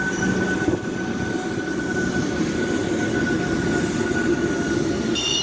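A goods train hauled by a powerful locomotive rolls slowly past on the line toward Charlapalli in Hyderabad at night, a loud continuous rumble with a steady high whine and grinding wheels, close by and with no talking.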